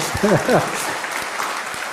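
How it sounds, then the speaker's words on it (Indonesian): Audience applause at a talk, dense clapping running under a voice that speaks briefly over the start. "Kasih tepuk tangan dulu, kasih tepuk tangan"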